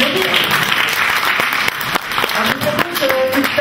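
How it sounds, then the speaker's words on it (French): Warm applause from an audience at a children's general assembly, sustained clapping with a few voices and an intermittent tone rising through it. "Bravo, on peut applaudir."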